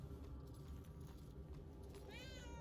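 In the video game Murdered: Soul Suspect, a cat gives a short rising meow near the end, heard faintly over a low rumbling ambience.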